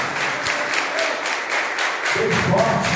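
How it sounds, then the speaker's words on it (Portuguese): A church congregation claps together in a strong, sustained round of applause, fairly loud and even, with a low thump entering partway through. "Dê uma salva de palmas para Jesus."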